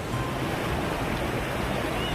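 Cold water rushing down the Tiger Waterfall in the hills of Chakrata, a dense, steady roar filling the whole clip, close and loud with no break.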